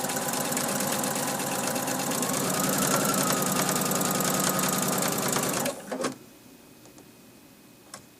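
A sewing machine runs a quilt block seam with a fast, steady mechanical whir and ticking needle rhythm, close and loud, then stops abruptly with a few faint clicks afterward.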